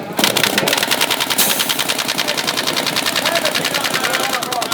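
Paintball markers fire in rapid, sustained bursts during a professional NXL Mid-Atlantic Major tournament match, a loud, continuous rattle of shots running through the whole stretch.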